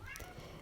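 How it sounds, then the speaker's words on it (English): A male house cat meows in the background, a short, faint cry at moderate distance in an indoor room, with faint speech-like sound around it. "My cat, if you can hear him, is just meowing in the background."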